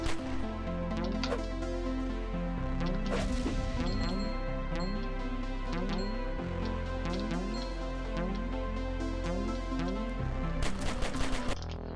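Rapid pistol gunshots crack over a continuous chiptune-style music track in Cally's Caves 3, arriving in quick irregular bursts with a denser flurry of shots near the end.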